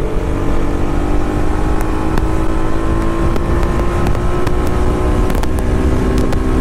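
A Kawasaki ZX10R sport motorcycle roars loudly and steadily on a ride, a dense sustained engine drone with strong tonal hum, very close and unbroken, no talking.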